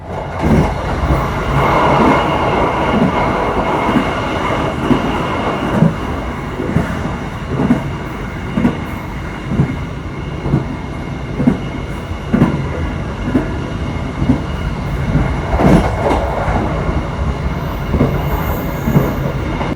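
A Gajayana passenger train pulls out of Kediri station, a loud continuous rumble with regular wheel clacks over rail joints and faint squeals throughout, no voices.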